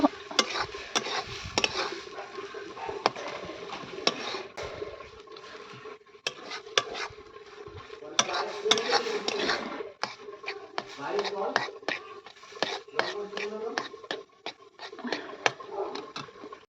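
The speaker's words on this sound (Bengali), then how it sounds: "আর এইবার একটু তেল দিয়ে আর এটাকে নেড়ে নেব।" Mashed bean paste being stirred in hot oil in a pan, steady scraping and clinking of the spoon against the pan with a faint sizzle, heard close under continuous talk.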